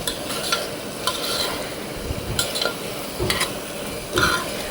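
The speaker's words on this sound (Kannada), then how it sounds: "ಬಟಾಣಿ ಹಾಕಿದ್ರೆ ಚೆನ್ನಾಗಿ ಮಿಕ್ಸ್ ಮಾಡೋಣ." Peas being stirred into tomato rice in a pan: a steady soft sizzle with a run of scraping, scooping strokes, close and unaccompanied by voices.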